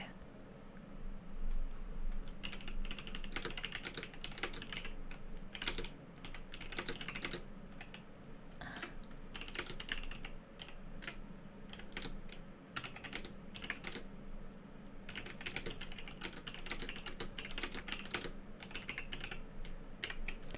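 Fast typing on a computer keyboard in a quiet room, dense irregular clicks and key taps with short pauses, close and clear, no talking.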